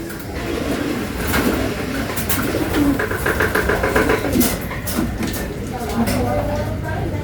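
Racing pigeons in a Las Piñas training flock coo and call as they come in, mixed with steady outdoor background noise while people talk nearby throughout.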